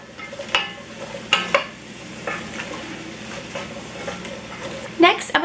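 Chicken noodle soup ingredients are stirred in a pot, with soft scraping and a few louder clanks over a faint background sizzle.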